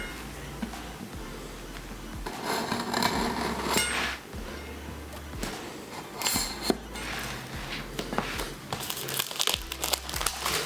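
Thin plastic wrap crinkles and crackles in close, irregular bursts as it is pulled off a HomePod mini box, with short quiet gaps between handfuls.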